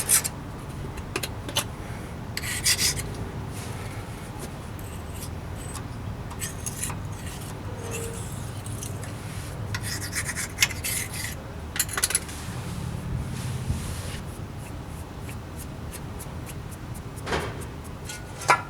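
Light scraping of leftover gasket and RTV sealant from the rear differential housing mating surface on a Ford Super Duty, a steady close rubbing rasp with short clicks and taps, no talking.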